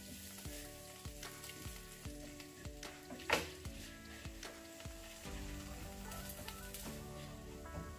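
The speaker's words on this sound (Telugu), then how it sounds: "ఇప్పుడు ఇందులోనే కొంచెం కరివేపాకు, 2 మిరపకాయలు ఇలా పొడుగుగా చీల్చేసి వేసుకోవాలి." Curry leaves and slit green chillies sizzle in oil for a tomato masala curry. The crackle is steady with small spits and one sharp pop, and soft background music plays underneath.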